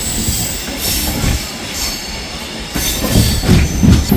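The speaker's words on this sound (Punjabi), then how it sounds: "ਆਪਣੀ ਜਾਨ ਸਤਾਵਦੀ ਨੇ ਜਿਹੜੀ ਸਪੀਡ ਆ ਫੜ ਲਈ ਹੈ ਜੀ" Jan Shatabdi express train number 12053 from Amritsar picking up speed leaving a rail yard, heard from inside a coach as a steady rumble with rhythmic wheel clatter growing louder toward the end.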